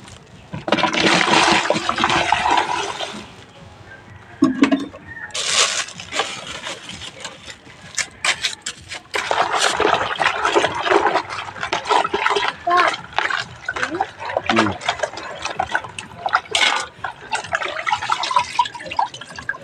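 Medicinal herbs are rinsed by hand in water to wash off soil and dust, giving bursts of splashing, dripping and sloshing that come and go with short pauses, fairly close and loud.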